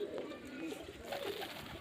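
Pigeons kept for sale in Beldanga coo in low, soft bursts close by, with faint background noise and a voice talking intermittently.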